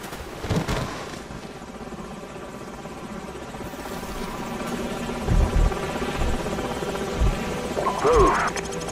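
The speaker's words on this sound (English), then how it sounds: "Enemy helicopters." Enemy helicopters in Call of Duty: Modern Warfare make a steady rotor drone throughout amid battle noise, with a few heavier thumps and voices talking over it.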